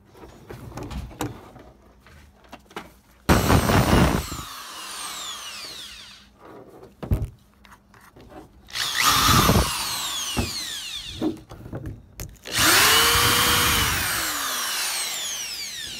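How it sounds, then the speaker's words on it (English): A power drill bores into a broken camera in several separate bursts, each a loud whining grind that rises and falls in pitch. Short clicks and handling noises fill the quieter gaps between the bursts. "I'm gonna drill into it though."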